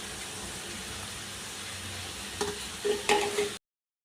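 A spatula stirs chicken fried rice with masalas, soy sauce and green chilli sauce through a hot pan, giving a soft, steady sizzle with a few scraping clinks near the end before it cuts off.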